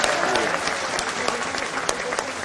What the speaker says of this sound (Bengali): তাহলে তারেক রহমান সাহেবকে একটা ধন্যবাদ দেন জোরে হাততালি দিয়ে